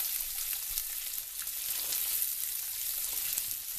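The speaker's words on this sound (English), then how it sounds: "I'm going to go ahead and heat that tri-tip up. So I'm going to place it in the same pan." Tri-tip beef reheats in a hot pan, with a steady, close sizzle that holds evenly throughout and carries only small crackles. No one speaks.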